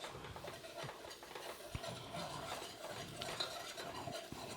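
Half a cup of all-purpose flour is stirred and cooked in a pan for gravy, a faint steady scraping with light sizzle and a few soft utensil clicks, no talking.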